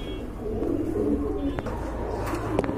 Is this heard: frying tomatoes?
no